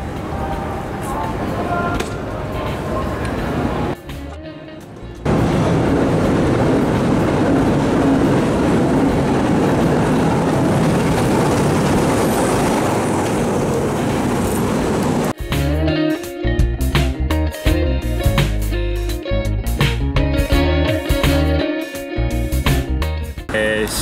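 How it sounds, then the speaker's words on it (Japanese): Inside a moving train in Romania: a loud rumbling roar with rattling, followed by rhythmic clattering and clanking of wheels over the tracks. "今日はこれからちょっと電車に乗って、他の町に、 行きたいと思います。"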